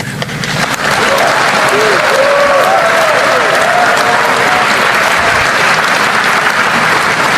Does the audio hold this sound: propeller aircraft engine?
no